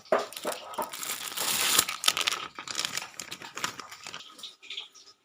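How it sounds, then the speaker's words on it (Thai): Sun-dried pork orders being packed for customers, with plastic bags crinkling and crumpling close by in a steady run of rustles and soft crunches, with no talk. "วันนี้ทำออเดอร์คร ับผม ตอนนี้กำลังแพ็คนะครับ"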